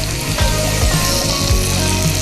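Vegetables coated with ginger-garlic paste fry in a pan for spicy vegetable butter rice, a loud continuous sizzle with a few sliding scrapes as they are stirred.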